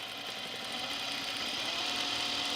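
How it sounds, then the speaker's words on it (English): A sewing machine back stitches the top of a blouse placket, running in a steady fast motor whir with a light rapid needle chatter, close by and alone. "And we're gonna back stitch at the top."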